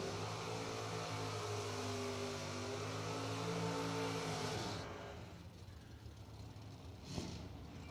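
A drag racing car does a burnout at a Spring Fling drag racing event, its engine roaring at a sustained, wavering rev, then giving way to a broad, rushing noise, heard from a distance.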